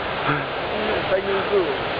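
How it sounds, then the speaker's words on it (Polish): A waterfall in the alpine Grossglockner area sends out a steady broadband rushing hiss, continuous and fairly loud, while people talk over it. "wodospad szumi"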